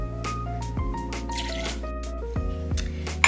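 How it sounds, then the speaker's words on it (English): Coconut fat-washed bourbon pours into a mixing glass in a short liquid trickle with small drips, heard beneath sustained background music. "So I'm gonna do 2 ounces of my coconut fat washed bourbon."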